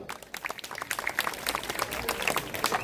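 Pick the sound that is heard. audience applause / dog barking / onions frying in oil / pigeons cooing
audience applause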